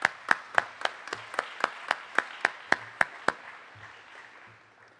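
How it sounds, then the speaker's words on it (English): At an annual meeting of a community development finance organization, a dozen sharp, evenly spaced claps ring out in a slow, steady rhythm, then fade into quieter scattered clapping and room noise. "So give yourselves a big round of applause"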